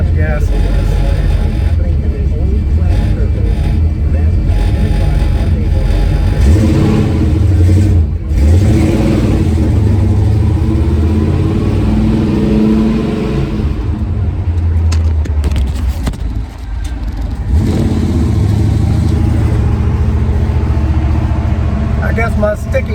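Chevy cab-over van conversion driving onto the highway, a steady loud engine drone and road rumble building as it accelerates, with someone talking over the noise.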